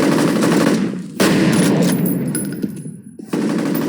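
Loud automatic gunfire from the shooter game F.E.A.R. Extraction Point rattles in dense bursts, broken by brief gaps where the firing drops away before resuming.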